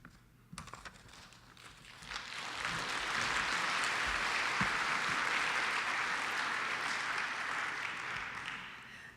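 Audience clapping at a math competition awards ceremony builds after a brief pause into a steady, even wash of applause that holds through to the end, moderately distant and without talk.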